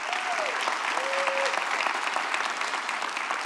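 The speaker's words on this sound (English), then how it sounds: "So please, once more, give them a round of applause." A crowd at a city's State of the City address gives a sustained round of applause, dense and even clapping with a couple of faint whistles near the start.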